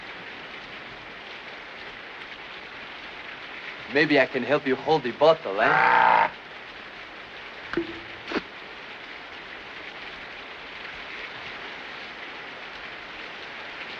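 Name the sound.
rain falling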